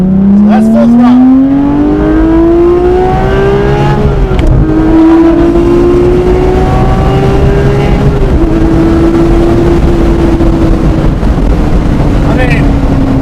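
Porsche 911 Speedster engine pulling hard at full throttle through the gears, a loud, close rising wail that climbs, drops briefly at each upshift and climbs again, with road and wind noise underneath.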